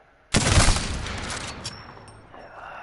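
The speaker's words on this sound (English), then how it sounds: "It is a bolt-action sniper rifle" A Sentinel bolt-action sniper rifle in a video game fires a single loud, sharp shot that rings and rumbles away, followed by a brief mechanical click and a thin high whine as it settles.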